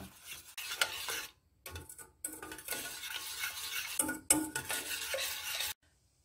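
A utensil scrapes and stirs around a pan in continuous strokes with short pauses as honey and sugar melt over low heat, close and fairly quiet, with a faint sizzle beneath.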